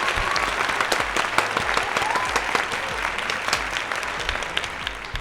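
Studio audience applause at a live podcast taping, a dense, steady wash of clapping and crowd noise greeting two guests, loud and close, lasting throughout with no talk.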